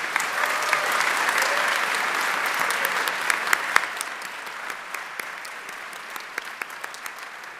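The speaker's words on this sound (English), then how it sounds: "Give yourselves a round of applause." Graduates and diplomates applaud themselves at a university graduation ceremony. Dense, full hall clapping stays loud, then gradually thins and fades to scattered claps.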